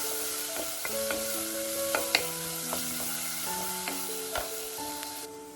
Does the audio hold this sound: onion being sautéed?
yes